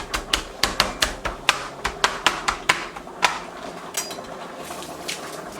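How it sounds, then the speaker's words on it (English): Scallion for Jamaican stew peas is crushed and beaten on a hard surface: a quick, regular run of sharp, close knocks, around a dozen in a row, that then slows to a few sparser hits. "Now before I add the scallion, I'm just going to crush it."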